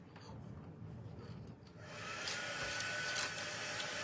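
A handheld dryer blows air over small Valentine craft jars, starting as a softer whir and then rising to a louder, steady rushing hiss for the final two seconds.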